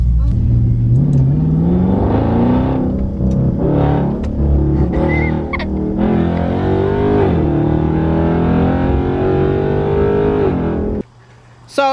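A 2021 widebody Dodge Charger Scat Pack V8 revs loud and close, with a deep rumbling idle climbing through several rising throttle blips and a sustained high rev before cutting off abruptly near the end.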